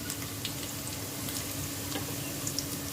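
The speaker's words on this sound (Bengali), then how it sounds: "পেঁয়াজ কুচিটা হালকা লাল করবো আমি, পেঁয়াজটা বেশি লাল করবো না।" Chopped onions frying in a pan for a chicken tikka biryani, a steady close sizzle with small crackles and pops and no talking.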